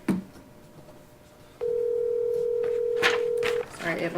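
After a dropped phone call, a steady telephone dial tone sounds for about two seconds at moderate loudness, with faint clicks and background noise around it and a voice coming in at the end.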